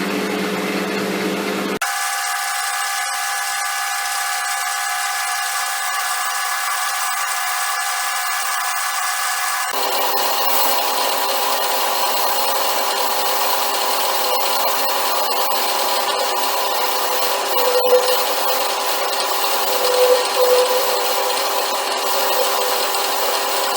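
A metal lathe takes a cut with the compound slide, producing a continuous motor hum and tonal whine that shifts to a busier, grittier cutting noise partway through and holds steady throughout.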